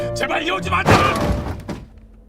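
A sudden heavy crunch of impact with shattering glass cuts through voices and background sound, then fades into a quieter tail.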